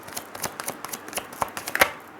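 Tarot cards being shuffled by hand, a close series of crisp, irregular flicks and snaps at moderate volume, with no talking.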